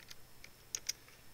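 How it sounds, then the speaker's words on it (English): Computer keyboard being typed on, a few faint, sparse key clicks with two slightly sharper taps near the middle, quiet and close. "if I run the program and type a capital Z for Zorro"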